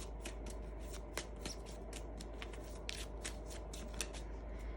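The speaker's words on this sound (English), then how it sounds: "I'm going to shuffle and pull 3 quick cards and show you what I mean." Tarot cards being shuffled by hand at a table, a quiet run of soft riffling and slapping card sounds with a few sharper snaps, close and alone without talk.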